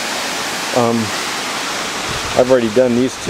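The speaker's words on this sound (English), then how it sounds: "One more look at the falls." A waterfall on the middle fork of Lytle Creek rushes in a steady, even hiss throughout, while someone speaks briefly over it.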